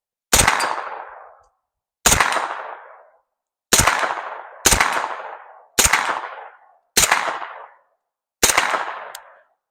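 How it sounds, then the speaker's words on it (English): Seven sharp, loud single gunshots ring out one at a time at uneven intervals of about a second, each cracking and then decaying over silence, fired while aiming under a PVS-14 night vision monocular. "we'll be taking some shots"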